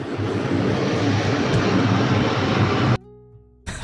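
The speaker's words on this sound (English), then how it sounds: "Fucking plane sounded like it was gonna land on top of you" A low-flying airplane in the bridge-building game Poly Bridge roars loud and steady for about three seconds, then cuts off abruptly before the sound briefly returns.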